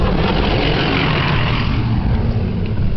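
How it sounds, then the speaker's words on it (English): A big truck drives past on a road, a loud, steady roar of engine and tyre noise filling the whole clip with no pauses and no voices. "Here comes a big ass truck."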